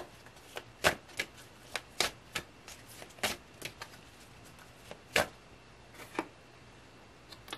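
Tarot cards shuffled by hand give a run of sharp, irregular flicks and snaps, close and fairly faint over a quiet room.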